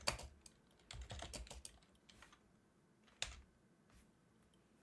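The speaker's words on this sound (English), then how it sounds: "I'm going to go ahead and type this in the chat for you guys." Fingers tap out bursts of quick keystrokes on a computer keyboard, faint and close, with irregular pauses between clusters of clicks.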